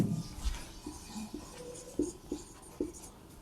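Pen or marker scratching as math equations are written out by hand, with soft strokes and small taps spaced irregularly, quiet and close, with no voice over them.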